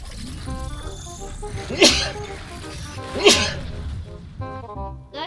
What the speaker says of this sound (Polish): Ale mi się kichać zachciało.